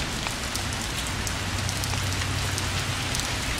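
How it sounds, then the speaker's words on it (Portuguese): Rain pours down on a Dublin street, a dense, even hiss of drops striking hard surfaces close by, unbroken and fairly loud for the whole stretch with no talking. "Dublin, na chuva, tudo é normal."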